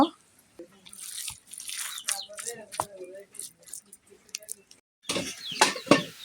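Noodle pakora batter with egg, noodle masala, turmeric and salt is mixed by hand in a bowl, giving wet squelches, drips and light clinks in irregular bursts, loudest near the end.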